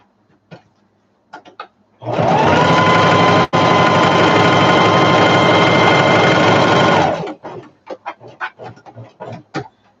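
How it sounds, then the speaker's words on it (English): A sewing machine stitches down the fabric edges of a storage bin in one loud, steady five-second run, with brief rustles and handling clicks on either side. "I just go ahead and stitch them right down."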